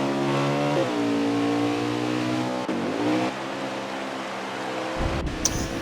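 In a racing video game at the Charlotte Roval, a Winston Cup race car engine drones steadily, its pitch dropping and climbing through several gear shifts. The engine is loud and sits alone with no voices.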